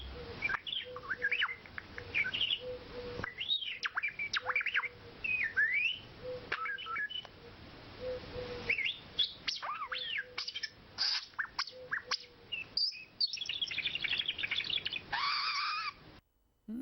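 A parakeet alone mimics R2-D2 robot noises, a fast run of whistles, rising and falling chirps and electronic-sounding beeps in short bursts with brief pauses, close and clear.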